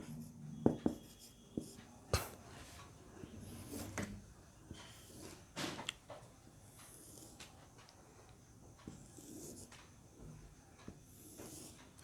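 Numerals are handwritten for a class 1 lesson, with faint scratching and occasional sharp taps scattered over twelve seconds against a soft hiss and no talking.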